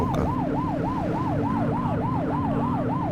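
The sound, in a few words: police siren in video game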